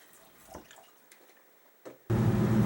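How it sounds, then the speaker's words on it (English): Distilled water poured into a beaker, roughly 100 ml, starting with a few faint drips and trickles, then a sudden loud, steady pouring rush to the end. "Then I'm going to add about 100 ml of distilled water for the reaction."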